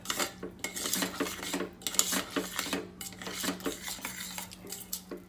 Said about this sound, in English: So I'll just give it a good mix